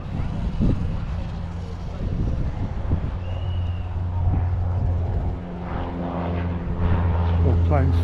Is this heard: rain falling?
no